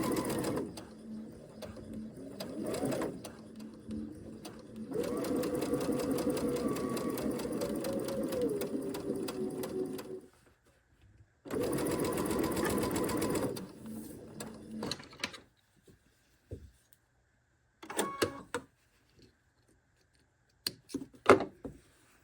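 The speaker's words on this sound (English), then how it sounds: "I'll just sew with the edge of the presser foot against the edge of the fabric" A sewing machine stitches fabric strips for strip piecing, guided along the presser foot for a quarter-inch seam. It runs in several steady bursts separated by pauses, with small mechanical clicks and handling noises in the quiet gaps.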